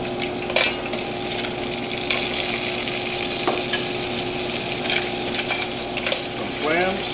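Mussels land in a hot pan already sizzling with halved jumbo scampi, giving a steady loud frying hiss with a few clinks and stirring scrapes and no talk.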